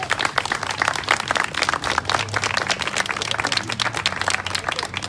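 An audience claps for Sharie Minions after her announcement of a run for Mayor of Port Alberni, steady dense applause sustained throughout at moderate level with no talking.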